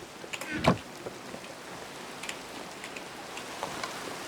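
Steady rain falls in the Minecraft video game, a soft, even hiss that runs throughout, with a brief louder patter near the start and scattered faint drop ticks.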